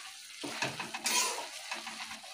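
A spatula stirs gourd greens through mustard and poppy seed paste in a pan, producing soft scraping and shuffling strokes with faint sizzling, close and quiet.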